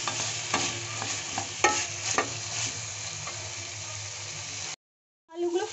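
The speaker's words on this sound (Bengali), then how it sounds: "আলুগুলো ফ্রাই করে নিয়েছি, বেশি ফ্রাই করতে হবে না, হালকা ফ্রাই করলেই হবে।" Potatoes fry lightly in a pan while being stirred, a steady close sizzle broken by scraping stirs, then a short silence before the frying returns.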